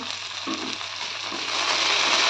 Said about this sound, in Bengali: 2-3 মিনিট টমেটোটাকে আমি ভালোভাবে একটু ভেজে নেব, নরম হয়ে আসা পর্যন্ত।